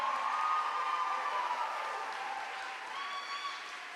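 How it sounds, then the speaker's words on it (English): Steady audience applause for graduates at a diploma ceremony in a large hall, a broad, even roar of many hands clapping that slowly fades, with faint cheers on top. "please, with a round of applause."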